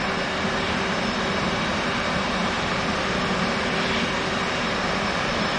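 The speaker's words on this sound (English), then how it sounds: "Now it is time to crank the left engine." The left jet engine of an F/A-18 cranking during a cold start in a flight simulator game, a steady loud turbine whine and rush holding constant the whole time, with no talk.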